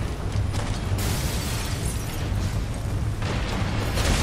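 A bomb goes off in the video game Darksiders, a loud sustained rumbling blast with crackling bursts and a second surge near the end, heavy low-end roar filling the whole stretch.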